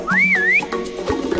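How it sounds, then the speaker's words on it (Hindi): A whistle gives one short sliding tone that rises and then dips for about half a second, clear and fairly loud over a low background murmur. "सीटी बजा रही है।"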